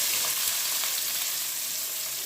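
Cumin seeds frying in hot oil give off a steady, dense sizzle with a constant hiss and no talking over it.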